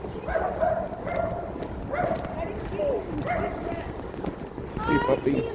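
A dog barks and yips in repeated short bursts at moderate distance, while a person talks throughout.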